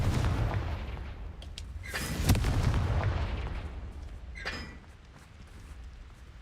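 Bombarda and Confringo spell blasts in the Hogwarts Legacy video game, a few heavy booming bursts over a rumbling low background, with sharper cracks around two and four and a half seconds.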